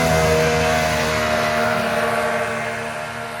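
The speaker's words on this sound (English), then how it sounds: "He's just trying to get a little heat in the engine for right now" A Polaris triple turbo 650 snowmobile engine idling and warming up in the snow, a steady loud close drone with sustained tones that eases slightly toward the end, with no voices.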